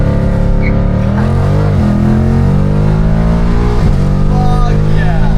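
A loud Ford Mustang revs and pulls hard away from a stop sign, its engine note climbing in pitch through a steady, close roar that fills the whole stretch, with a voice sounding faintly beneath it.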